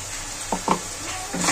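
Taro curry masala with cashews and sour yogurt sizzling as it is sautéed in a pan, with a steady frying hiss and a few short stirring scrapes, close and moderately loud.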